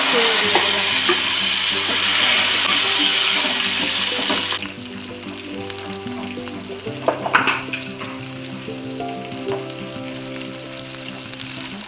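Tomatoes and beans fry in a wok for a Bengali sim bhorta, a loud steady sizzle that drops back around midway, with scraping stir strokes and a sharp clatter partway through, tonal hum underneath.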